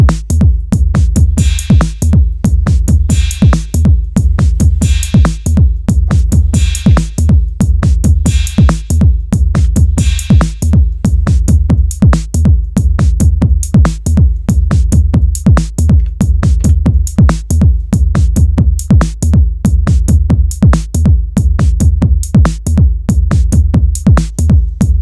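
An Elektron Analog Rytm MK2 drum machine plays a loud, steady looping pattern with conditional trigs, punchy kicks and crisp hits repeating on a dense rhythmic grid throughout with no talking.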